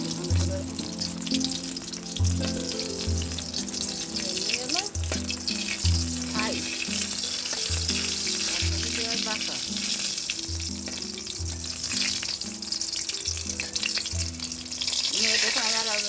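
Two koi fish fry in oil with a constant loud sizzle and crackle, while a rhythmic tonal pulse repeats steadily beneath the frying throughout.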